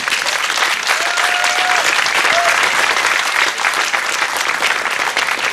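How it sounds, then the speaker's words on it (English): Steady, loud applause from a crowd fills the opening ceremony of the annual Decatur Celebration downtown, a continuous wash of clapping with no pauses. "Please give our volunteers a round of applause."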